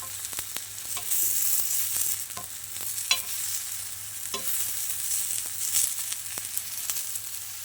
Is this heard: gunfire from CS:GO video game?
no